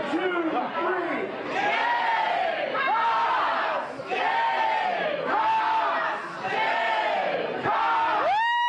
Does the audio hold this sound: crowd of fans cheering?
yes